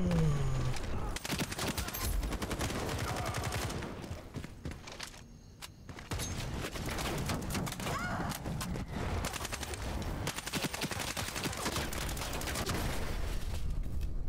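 Rapid, dense automatic gunfire from a weapon in the online shooter Ironsight, bursts rattling nearly continuously for the whole stretch with a brief lull in the middle.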